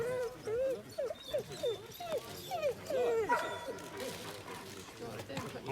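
At a sled dog race, a dog whimpers and yips in a run of rising, whining cries, close and fairly clear, then breaks into a short bark, while people talk in the background.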